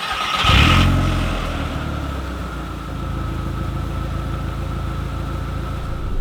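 A Seat Leon Cupra engine starts with a sharp burst and a quick rev flare, then settles into a steady, resonant idle close by, with nothing else over it.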